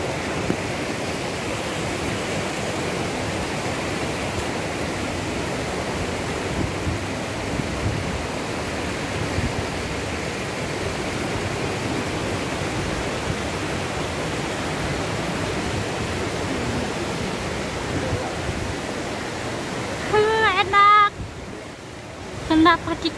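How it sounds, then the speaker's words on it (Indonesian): A waterfall at Grojogan Sewu in Java roars as a steady, dense wash of falling water, broad and constant, with faint voices briefly heard near the end. "Waterfall."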